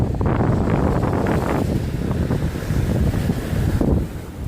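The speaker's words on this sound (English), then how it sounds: "I'm walking on the beach in Florida." Steady wind buffets the microphone over the broad, continuous wash of surf breaking nearby on a Southwest Florida beach, with no pauses throughout.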